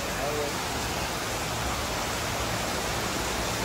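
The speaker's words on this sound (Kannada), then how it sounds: "ಸೊ ಹೆವಿ ಮಳೆ ಬರ್ತಾ ಇದೆ." Heavy rain pours steadily, a dense unbroken hiss that stays loud and even throughout.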